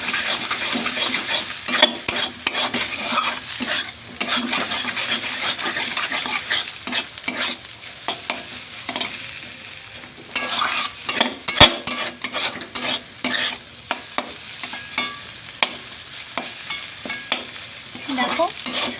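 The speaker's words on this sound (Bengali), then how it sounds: "এবার এগুলোকে সুন্দরভাবে আমি মিক্স করব।" A spoon stirs and fries a ground cumin and coriander spice filling for cabbage rolls in a pan. Steady sizzling runs under repeated scraping and clinking strokes against the pan, close and without speech.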